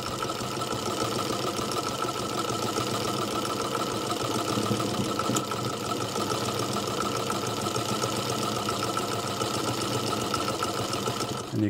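A Singer sewing machine fitted with a buttonhole attachment (No. 86662/86718 type) stitches a buttonhole, giving a steady, loud mechanical whir and rapid rhythmic needle clatter that runs unbroken and close throughout.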